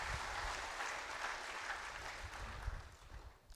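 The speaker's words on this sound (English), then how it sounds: "Big applause to all the sponsors and supporters." Sustained applause from an audience at a drug manufacturing workshop, thanking sponsors and supporters; broad steady clapping that holds loud throughout and thins slightly toward the end.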